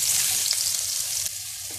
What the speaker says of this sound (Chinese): 把它煎出香香香味